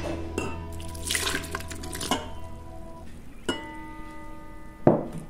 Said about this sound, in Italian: Aggiungiamo il latte.